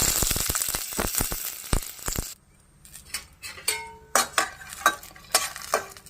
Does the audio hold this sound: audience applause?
no